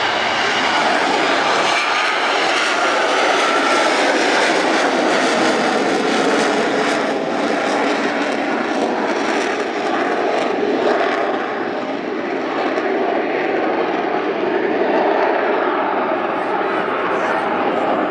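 A fixed-wing aircraft roars past at the Royal International Air Tattoo air show, a loud sustained engine drone that holds for the whole stretch, with a commentator talking over it.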